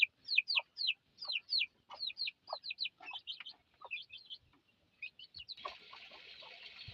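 A junglefowl hen clucks in a run of short, quick calls, close by and steady, before a rough hiss of background noise takes over near the end.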